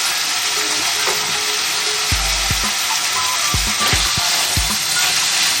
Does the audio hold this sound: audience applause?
no